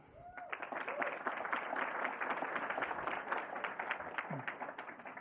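Audience applause at a conference closing plenary on inclusive innovation, steady mid-distance clapping from a large hall with a voice briefly speaking at the start.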